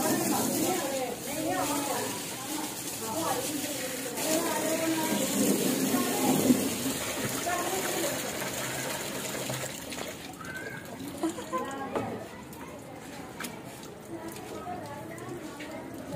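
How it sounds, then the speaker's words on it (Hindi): Running water splashes steadily as 8 kg of rice is washed for a large degh of pulao, with people talking over it throughout. "ये 8 किलो चावल देग के लिए तैयार हो रहे हैं, इन्हें धोया जा रहा है अच्छे तरीके से।"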